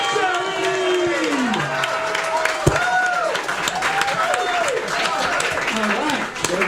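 A bar crowd at a comedy joke-off claps and cheers steadily for a comedian, with whoops and shouted voices mixed through the applause.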